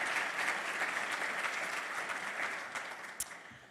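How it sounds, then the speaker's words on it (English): Steady, dense applause from an awards-ceremony audience for a speaker, even and continuous throughout, tapering slightly at the close. "How about another round of applause for her?"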